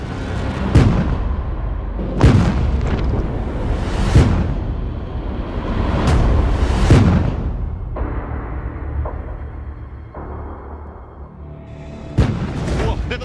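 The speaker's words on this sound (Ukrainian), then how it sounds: "Зараз буде вибух." A series of heavy landmine booms, about six over several seconds, each with a sharp onset and rumbling decay, loud and fairly close, set off by a demining harrow.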